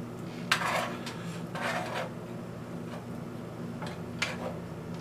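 A spoon clinks and scrapes against a pot while ingredients are stirred together with liquid smoke, making a few faint, irregular metallic taps and rubbing sounds in a quiet room.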